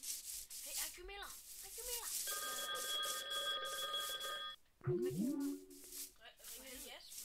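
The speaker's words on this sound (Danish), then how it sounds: "Ja, Jesper ringede" A telephone rings with a steady electronic tone amid background chatter and voices, with rubbing and scraping noises around it.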